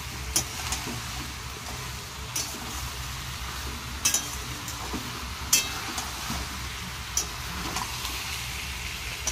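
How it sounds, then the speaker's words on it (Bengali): A spiced masala mixture is stirred and fried in a pan, giving a steady low sizzle with occasional sharp clinks of a spoon against the metal. "এটাকে ভালো করে আমি এতে কষিয়ে নিচ্ছি।"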